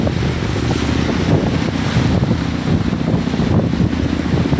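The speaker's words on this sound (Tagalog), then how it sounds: "Laki pa ang alon." Big waves and strong wind out at sea, heard from a boat as a loud, steady, broadband roar with constant rumbling and heavy gusting against the microphone, without speech.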